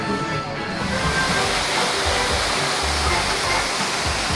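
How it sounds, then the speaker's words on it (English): A waterfall at Alton Towers pours in a loud, continuous rushing roar, close and steady throughout with no voices over it. "Time to face these waterfalls head on."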